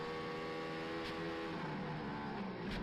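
An F1-powered road car lifts off the throttle at Flugplatz on the Nürburgring, its engine note held as a dense harmonic whine, with short bursts of crackle as it eases off, loud and close without talk.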